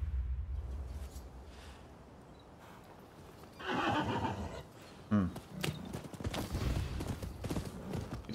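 A horse ridden in the video game Rise of the Ronin gives loud, close whinnies and snorts with clip-clopping hoofbeats, following a quieter stretch at the start.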